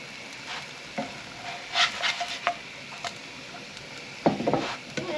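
Potato scones, called tatty scones, fry and brown in a pan, with a soft steady sizzle and occasional scraping and turning noises.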